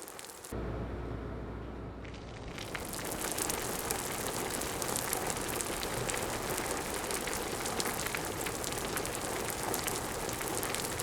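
Steady rain falls outdoors as a dense, even hiss of drops landing on surfaces. It starts abruptly and keeps up at a constant level throughout, with no voices heard.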